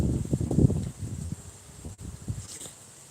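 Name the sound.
wind outdoors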